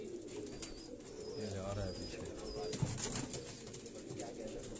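Jaunsari breed pigeons at a home loft coo softly and steadily beneath a man's close speech, with a brief flutter of wings partway through.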